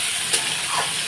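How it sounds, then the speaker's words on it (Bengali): Potatoes fry in a pan of hot oil, browning while a Bengali chana dal is made, giving a brief, steady, close hissing sizzle. "আলুগুলো দিয়ে এবারে আলুগুলো আমি লাল লাল করে একটু ভেজে নেব।"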